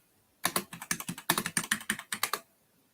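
Close, crisp keystrokes on a computer keyboard tap out a quick irregular burst of about two seconds, then stop, with no talking.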